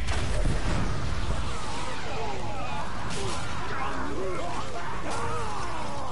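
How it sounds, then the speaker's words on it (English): A rumbling, noisy explosion in the video game Middle-earth: Shadow of War, followed by a sustained crackling wash of battle sound with swooping tonal effects layered over it. "Hey, an explosion!"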